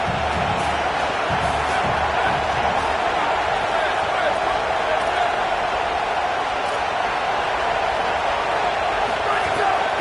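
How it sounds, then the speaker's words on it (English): A home crowd at a college football game roars steadily, a dense, loud wall of noise that holds without pause, with a voice faintly underneath. "Man, this crowd really affecting the football game."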